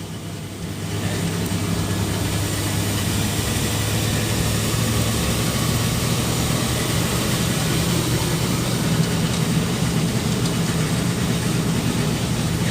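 A 1981 Suzuki ST-20 with a three-cylinder 550cc two-stroke engine runs at steady high revs, a continuous loud droning buzz with road rumble and no speech.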